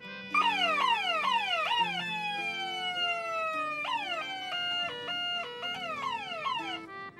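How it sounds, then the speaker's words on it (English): Electronic sirens cycle through rapid wailing sweeps and long falling tones, loud and close, with no voices. "down below here, I have horns and sirens"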